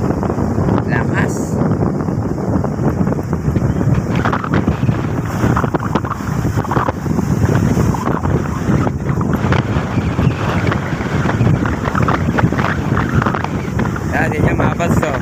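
Strong monsoon storm wind roars at sea around a small boat, a loud continuous buffeting rush with wave wash, unbroken for the whole stretch.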